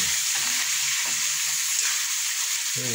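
Kaldereta stew sizzles and fries loudly in a pan while being stirred, a continuous close crackle with faint scraping of the utensil throughout.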